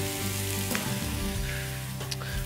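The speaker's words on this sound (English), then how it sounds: "we should hear that sear off and sizzle quite nicely." Beef porterhouse steak searing in a hot pan gives a loud, continuous close sizzle and crackle, with faint stirring or clattering touches near the end and no one talking.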